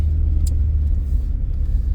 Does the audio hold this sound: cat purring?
no